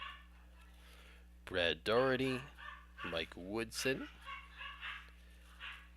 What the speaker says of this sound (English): My dogs are going nuts in the other room now.